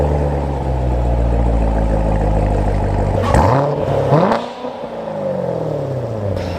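A 2019 Corvette Grand Sport Convertible engine revs loudly and close, its exhaust rising and falling in pitch through a couple of sharp blips before settling back to a steady idle.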